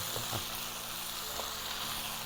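Washed mixed vegetables dropped into a hot pan for a vegan vegetable curry stir-fry, giving a steady, close sizzle with a couple of soft clatters near the start.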